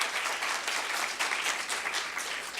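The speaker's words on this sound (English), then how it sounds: "Let's get a hand clap for that" A crowd at a women's health event applauds steadily, a dense wash of many hands clapping at even loudness for the whole moment.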